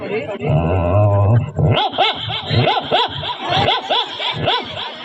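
A voice mimics a small puppy's yips, a run of short, high, rhythmic barks after a brief lower vocal sound, close and fairly loud.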